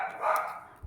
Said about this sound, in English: if you can hear my dog, I apologise